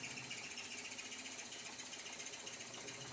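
A drill grinds steadily through a bolt on a government safe, a dense, even high-pitched whine and rasp that holds at constant loudness throughout with no voices.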